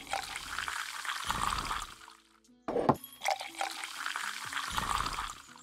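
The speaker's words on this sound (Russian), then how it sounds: "смотри, как я уже мастерски наливаю эль." Ale poured from a tap in Tavern Manager Simulator, two steady rushing pours of liquid separated by a short clink and pause, close and moderately loud, with no talking.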